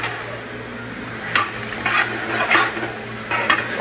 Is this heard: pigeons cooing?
no